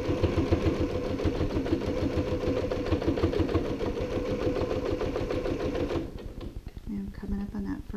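A sewing machine stitches an ironing board cover, a fast, even clatter of stitches heard up close that stops abruptly near the end, followed by quieter intermittent sounds.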